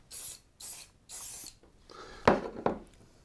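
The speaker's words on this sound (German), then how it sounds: "wir werden jetzt mal ein bisschen was drüber sprühen" Three short bursts of a hand spray bottle misting liquid over a spring flower arrangement, followed by a couple of sharper rustling and handling noises of the stems and foliage.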